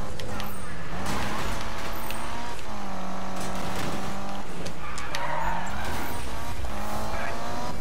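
A race car in Need for Speed roars at high speed, its engine pitch rising and dropping between gear changes, with repeated tire squeals and skids while someone talks over the action.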